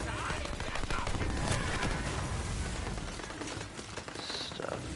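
Rapid bursts of video game gunfire crackle through a dense, noisy battle mix, loud and continuous, with scattered volleys and a voice talking underneath.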